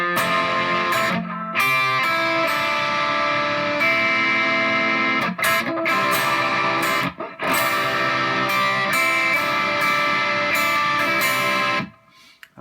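Guitar played through the amp distortion bypass setting of a Joyo PXL Pro pedal, a dense, sustained overdriven tone that holds steady with only brief breaks and cuts off near the end.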